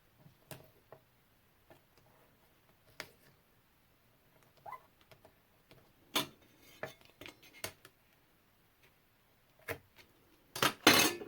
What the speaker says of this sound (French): Désolée pour le bruit de la règle en fer.